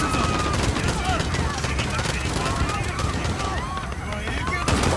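Handgun fire and other shooting crackle through a Call of Duty: Modern Warfare campaign battle. Sharp shots come in quick bursts over chaotic combat noise, and in-game voices are heard underneath.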